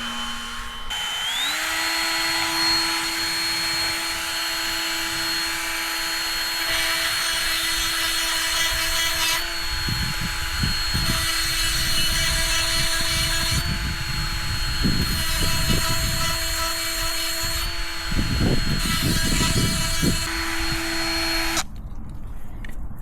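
A powered sharpener grinds a chainsaw chain, a steady high motor whine with bursts of harsher grinding as teeth are dressed, close and loud, cutting off near the end.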